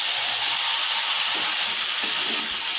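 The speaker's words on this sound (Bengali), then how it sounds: "এই মুহূর্তে আমি ম্যারিনেট করা চিকেনটা অ্যাড করে দিলাম।" Marinated chicken hits a hot pan of well-fried tomato, onion and garlic paste, giving a loud, continuous hiss and sizzle close up, with faint stirring knocks underneath.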